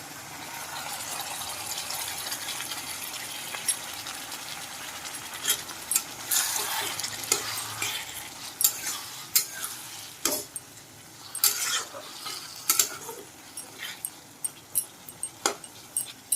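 Potato and vegetable chachdi, with pumpkin flowers, eggplant and spices like mustard seed, cumin and chili, sizzles and fries in a pan, with irregular scraping and stirring clatters growing busier over a steady crackle, close up with no talking.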